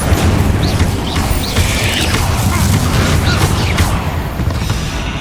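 Fire-spell blasts cast in the Hogwarts Legacy video game, a loud, dense roar of booming, crackling bursts that runs without pause from start to finish.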